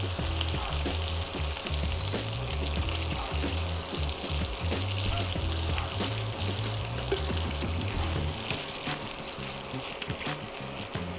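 Bacon fries in its own rendered fat in a pan, giving a dense, continuous crackling sizzle close by that holds steady and eases slightly near the end.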